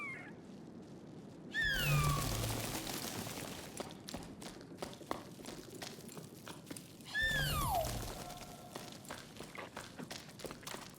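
Cat meowing in the climbing game Jusant, two descending meows a few seconds apart over a soft gritty background of footsteps and shuffling.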